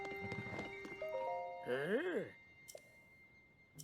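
In Zelda Tears of the Kingdom, a horse whinnies loudly at a stable amid in-game chimes and a soft hoof clop, while someone talks over the game sounds.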